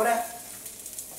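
Potato pieces browning in a frying pan give a soft, steady sizzle, faint and brief, with a light stir near the start.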